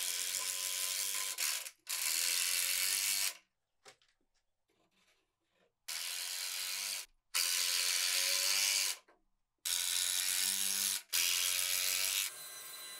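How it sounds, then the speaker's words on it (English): A power driver sinks decking screws into planter box supports in several long bursts, each a loud ratcheting whir lasting a second or two, separated by short pauses of near silence. "I can then drop in the supports and secure them using more decking screws."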